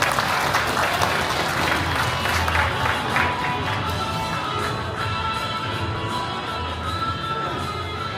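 Warm, dense applause from a crowd honoring award winners during a county governor's New Year community visit in Daechi-myeon, Cheongyang, a continuous loud wash of clapping that stays even throughout.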